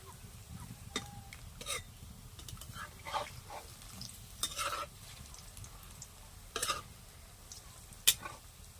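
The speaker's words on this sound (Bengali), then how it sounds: "এক পিট করে হয়ে গেছে আর এক পিট করে উল্টে দিচ্ছি আমার এগুলো ভাজাও হয়ে গেছে" Ripe banana fritters fry in hot oil with a low steady sizzle, broken by a few sharp scraping knocks as they are turned in the pan.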